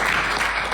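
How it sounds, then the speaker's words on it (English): Brief burst of audience applause at a golf tournament event, a dense wash of clapping from a room of people, steady and fairly loud for under a second. "let's give Frank a big round of applause"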